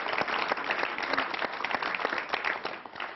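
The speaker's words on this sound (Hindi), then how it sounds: "जोरदार तालियां अनामिका जी के लिए" Loud applause rises for a poet at a kavi sammelan poetry gathering, a dense crowd clapping steadily and close for a few seconds, without any speech.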